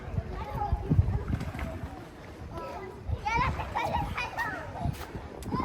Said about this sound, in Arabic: بصوا ده حمام السباحه كده.